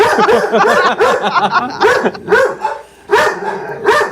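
A dog barks repeatedly and close by in rapid, irregular bursts, with a brief lull before the barking picks up again. Faint talk and laughter sound underneath.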